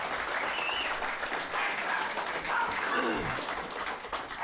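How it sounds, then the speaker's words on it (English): A crowd in a hall breaks into steady, dense applause, loud and sustained throughout, with a few scattered whoops and laughs mixed in. "Round of applause for the Blade Runners"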